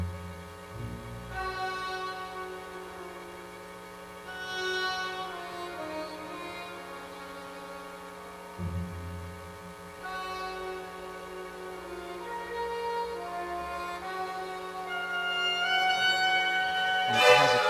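Orchestral passage from Mahler's Symphony No. 2, a passionate, syncopated motif that keeps shifting, with sustained low strings under layered melodic lines and swelling accents, building louder toward the end.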